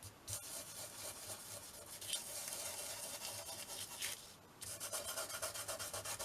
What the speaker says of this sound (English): Just burnish it a little bit so it's on there.